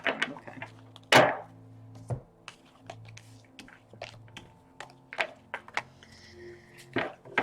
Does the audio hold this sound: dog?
no